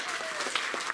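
An audience at a folk music show claps in a steady, dense burst of applause that fills the room, moderately loud and close, with no voices over it.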